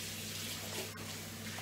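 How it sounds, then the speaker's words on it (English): Tap water runs steadily into a kitchen sink while dinner plates are rinsed, a soft continuous splashing hiss at low level with no talk. "Rinse the plates"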